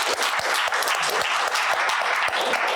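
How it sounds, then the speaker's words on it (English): Applause at a community risk mapping certificate ceremony, close and loud, with individual hand claps standing out sharply from a thick, continuous round of clapping. "I think you deserve a round of applause for having done that."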